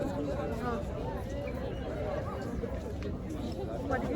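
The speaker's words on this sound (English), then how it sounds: "Cristo Redeemer and the crowd." Steady crowd chatter at Christ the Redeemer in Rio de Janeiro, with many overlapping voices forming a continuous babble close around.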